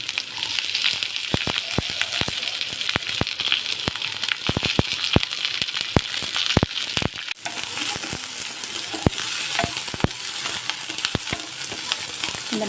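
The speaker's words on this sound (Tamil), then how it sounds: "இந்த மாதிரி நல்லா வதக்கிக்கலாம்" Chopped onions sauté in a pan with steady, close sizzling and crackle, punctuated by sharp clicks and scrapes of a spoon stirring against the metal.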